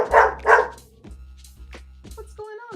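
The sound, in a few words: dog barking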